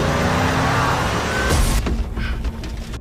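A car driven in a horror film scene, a loud close engine roar that cuts off abruptly about midway into a quieter, thinner rumble.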